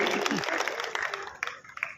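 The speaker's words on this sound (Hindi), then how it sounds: "एक बार जोरदार तालियों से इसका अभिनंदन कीजिए" Audience clapping for a young poet at a Hindi poetry gathering, a burst of dense applause that thins out and tapers toward the end, with a voice briefly heard in the mix.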